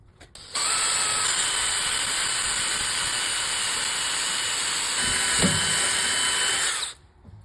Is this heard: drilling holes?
yes